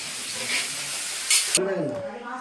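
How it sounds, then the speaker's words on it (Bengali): Food frying in a pan while lunch is cooked in a home kitchen, a steady broadband sizzle with a brief louder hiss burst, then fading into quieter background sounds. "এখন এই যে দুপুরে রান্না বান্না চলছে"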